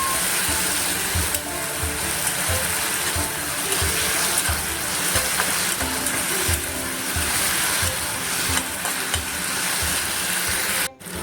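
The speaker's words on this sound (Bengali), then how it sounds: "আদা রসুনটা খুব ভালোভাবে ভেজে নিতে হবে" Loud, steady sizzling of ginger-garlic paste frying in a pan, with continuous stirring and scraping throughout and no talking.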